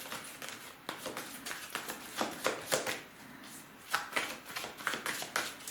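Tarot cards are shuffled and laid down in a quiet room, a run of soft riffling bursts and light taps coming in uneven clusters, close and fairly faint.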